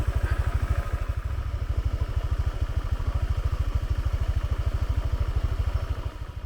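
A motorbike engine runs with a fast, even pulsing thump throughout, a close and steady mid-pitched drone during a ride on Koh Chang island in Thailand.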